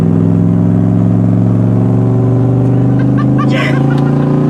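A small race car's engine idles loud and close in a steady, throbbing drone, with a brief higher rattle near the end.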